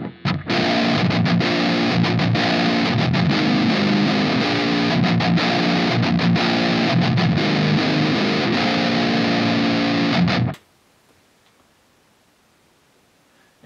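A loud, saturated high-gain electric guitar through a Line 6 POD HD500x plays dense sustained chords for about ten seconds, then cuts off abruptly into near silence.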